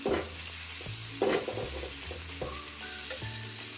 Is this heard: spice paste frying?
yes